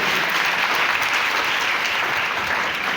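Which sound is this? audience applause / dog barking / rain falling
audience applause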